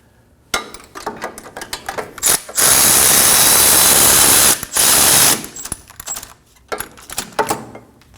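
A power tool snugs the steering knuckle bolts on a 2011-2016 Kia Optima, close and loud. Sharp ratcheting bursts frame two sustained whirring runs of a few seconds, with clicks and clanks between them.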